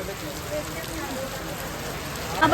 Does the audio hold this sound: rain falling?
yes